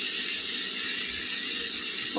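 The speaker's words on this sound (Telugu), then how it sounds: "ఇప్పుడు మనం ఇందులో నీళ్ళు వేసుకుందాం." A glass of water is poured into a pan of bottle gourd curry, producing a steady, loud splashing hiss that ends with a faint knock.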